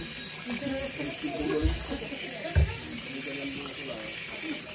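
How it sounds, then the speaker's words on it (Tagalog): Freshly picked mulberries that were soaked for an hour are rinsed in water, with a steady wash of running water, soft splashing and a couple of duller knocks at moderate level, and a voice faintly present. "At atin na pong huhugasan dahil po naibababad na natin ito ng 1 oras."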